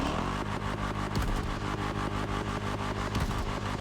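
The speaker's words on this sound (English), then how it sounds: "this engine sound seems to make the pops more common" A swapped engine runs steadily with dense, rhythmic harmonic drone and periodic popping crackle from the exhaust, loud and close, with no voices.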